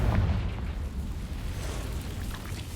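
A Confringo fire spell from Hogwarts Legacy bursts as a deep, rumbling blast that starts loud and rolls on as a sustained low roar, with no voices.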